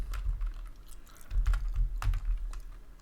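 Irregular bursts of clicking keystrokes on a computer keyboard, close and fairly quiet, tapping out a short entry with brief pauses between groups of keys.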